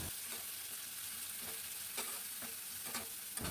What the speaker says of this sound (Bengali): মশলার পেস্ট আমি পুরোটা দিয়ে দিলাম। খুব ভালো করে নাড়িয়ে নেব।